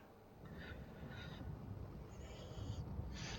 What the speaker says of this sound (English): Hello, Mr. Bird